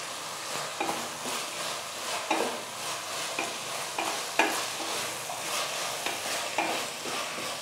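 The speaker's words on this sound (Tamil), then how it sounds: "உப்பு போட்டு நல்லா இப்போ வதக்குறோங்க நல்லா வதங்கணும்" Tomatoes with salt sautéing in a pan for kadai chicken gravy, a continuous close sizzle broken by repeated scraping stirs of a spoon at an uneven, roughly one-second rhythm, no voices.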